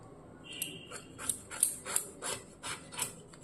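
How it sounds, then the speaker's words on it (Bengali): A pointed gourd (potol) scraped by hand to strip its skin, a run of short rasping strokes, close and fairly quiet, repeating in a steady rhythm with no talk. "এইভাবে পটলটাকে ঘষে প্রথমে ছালটা ফেলে দিলাম"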